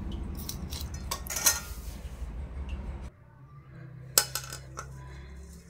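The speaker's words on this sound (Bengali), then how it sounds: "এভাবে আমি সুন্দর করে মাছের আঁশগুলো ছাড়িয়ে নিচ্ছি।" Scales being scraped off large khalisha fish, a fast run of rough, scratchy strokes with small metallic clinks, then a quieter stretch broken by a few sharp knocks, with no talking.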